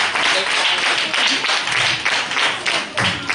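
A church gathering of Christian children bursts into sustained, dense clapping and applause that fills the whole stretch, with voices mixed in.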